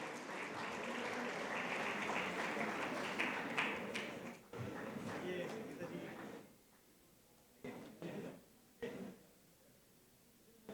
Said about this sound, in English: Can I have a thunderous round of applause for our eminent speakers?